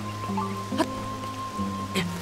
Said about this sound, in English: we can't climb up because it's too rainy